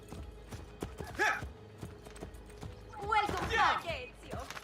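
Horse hooves clip-clop at a steady walking pace on city streets in Assassin's Creed: Brotherhood, sounding close and moderately loud under game crowd voices and chatter.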